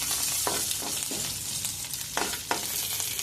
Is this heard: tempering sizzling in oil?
yes